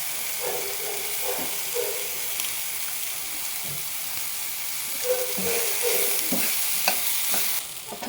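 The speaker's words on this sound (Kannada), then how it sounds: "ಈಗ ನಾನು ಕ್ಯಾಪ್ಸಿಕಮ್ ಹಾಕ್ಕೊಳ್ತಾ ಇದ್ದೀನಿ ಅದರೊಟ್ಟಿಗೆ ಸ್ವಲ್ಪ ಬ್ರೊಕೊಲಿ ಹಾಕ್ಕೊಳ್ತಾ ಇದ್ದೀನಿ" Capsicum and broccoli sizzle in a hot pan for sago uppittu, a steady frying hiss with scattered scrapes and knocks of a spoon stirring the vegetables, growing a little louder toward the end.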